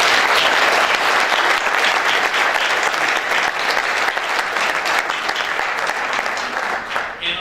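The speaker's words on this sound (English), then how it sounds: "Let's give her a round of applause." An indoor audience at a Boston sustainable-communities consortium event claps loudly and continuously in dense applause, easing only slightly toward the end.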